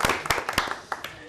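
A few people at a town water quality committee meeting clap briefly, sparse separate claps close by, with voices mixed in.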